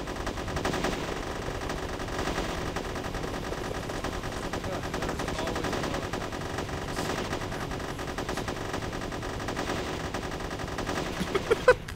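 Sustained machine gun fire from the video game Unearthed: Trail of Ibn Battuta, rapid and unbroken for the whole stretch, with a few sharper single shots near the end.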